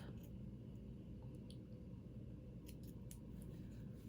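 Scissors trim sun dress fabric, faint close snips that come as small clicks over a steady low hum, with a short cluster of cuts toward the end and no talking.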